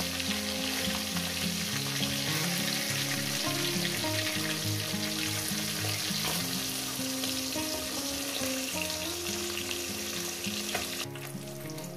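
Parshe fish fry in hot oil with a loud, continuous sizzle and crackle, close up and unbroken, while faint background music plays underneath.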